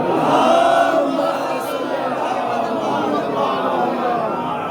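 A congregation at a Muharram majlis loudly chanting salawat in unison, a swelling crowd roar of many voices that peaks early and then holds steady as a sustained collective chant.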